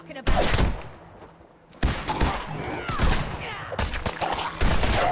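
Bursts of gunfire hit a ghoul in a modded Fallout 4, sharp volleys of shots in several clusters separated by a brief quiet gap, fairly loud and close.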